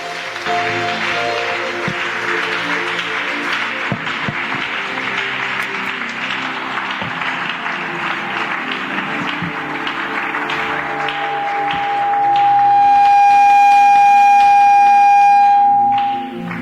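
A church congregation applauds and cheers to acclaim Jesus in a continuous, fairly loud wash of clapping, joined near the end by a sustained steady electronic tone.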